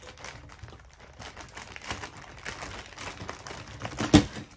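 Scissors cut open a plastic bag with rapid, uneven snipping and crinkling, close and dry, with a sharper crunch near the end.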